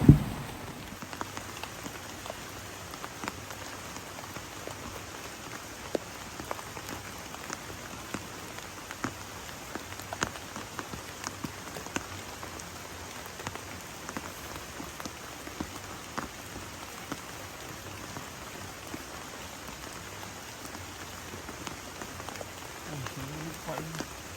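Heavy rain falls on a campsite on Mount Ciremai, a dense, constant patter of drops striking a surface close by, steady for the whole stretch with no voices.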